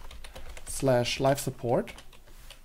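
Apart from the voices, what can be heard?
typing on a computer keyboard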